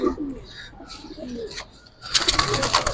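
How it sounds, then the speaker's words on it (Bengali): Giribaz high-flyer pigeons coo in low, repeated murmurs, followed by a louder burst of rustling and wing or body movement near the end. "এগুলো একদম নতুন কবুতর"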